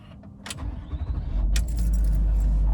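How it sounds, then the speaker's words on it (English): An old Range Rover engine settles into a steady idle, its deep low rumble swelling and holding after a few early light key jingles and clicks, close by with no talk. "we're going to let the car idle for a few minutes"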